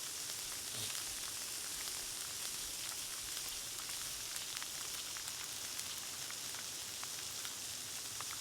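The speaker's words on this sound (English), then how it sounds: "I hear the sizzle" Food sizzles while cooking in the video game Sons of the Forest, a steady crackling hiss with scattered pops that runs evenly throughout, with no voices over it.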